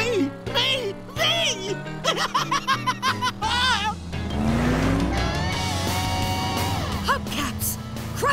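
Cartoon monster truck Crusher revs and rumbles toward the finish line, a loud engine roar that swells in the second half, after stretches of excited animated character voices and laughter.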